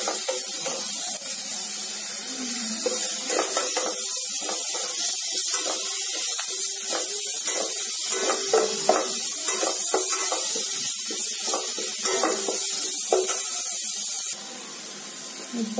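Ginger sizzles as it is sautéed in a pan, giving a steady hissing fry that runs for most of the time, with faint stirring clinks.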